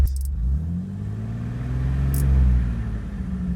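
A 2000 Jeep TJ's engine idles close by, then is raised with a hand throttle, rising into a smooth rev that peaks and eases back to a steady rumble.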